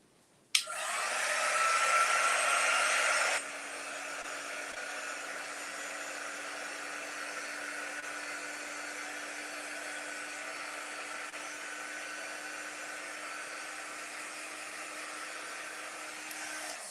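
A hair dryer blows steadily on nearby chalkboard art, louder for the first few seconds and then settling to a lower, constant whir, with no voices.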